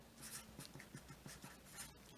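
Pen or marker writing out a chemical formula for iron(II) oxide, heard as soft, close scratchy strokes in a quick rhythmic series, quiet and with no talking.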